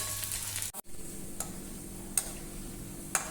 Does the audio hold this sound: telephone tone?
no